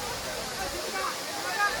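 Palakondalu waterfall near Kadapa, Andhra Pradesh, gives a steady, broad rush of falling water that fills the whole stretch evenly at a moderate, fairly distant level.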